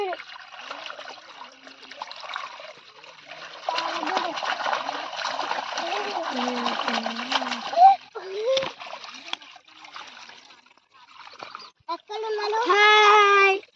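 Children splash and play in water at a corn field, with steady splattering and trickling through the middle, and a voice and adult talk running over and between the bursts.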